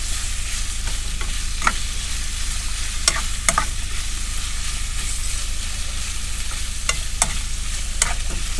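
Chicken fajita pieces frying in a pan without extra oil, a steady close sizzle with scattered sharp pops and a few clicks, no voices.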